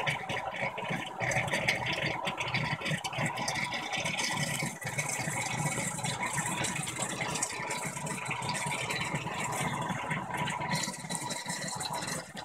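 An Electrolux LDD16 16 kg washing machine's drain pump runs loud and steady for the whole stretch, a continuous rattling churn mixed with gushing water and no talking.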